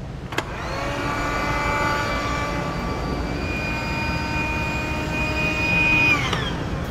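The built-in battery-powered pump of an AirBedz XUV air mattress runs as a steady, loud, close electric whine with a constant drone, starting with a click and rising slightly in pitch as the mattress firms up.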